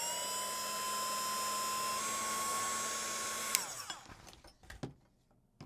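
A hair dryer blows on a watercolor painting layer, a steady whirring motor whine held close for several seconds before it clicks off and winds down, leaving a few light knocks.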